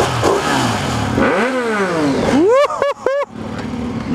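A Triumph Street Triple and a Ducati 959 Panigale rev on a street in Bath, loud and close, engine pitch sweeping up and down, then three sharp blips in quick succession near the end.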